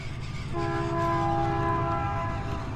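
A train rumbles past near a Minnesota lake as its horn blows one sustained, loud chord lasting a couple of seconds over the steady rolling noise.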